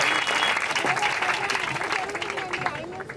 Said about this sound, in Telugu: ఒకసారి అందరు క్లాప్ కొట్టండి.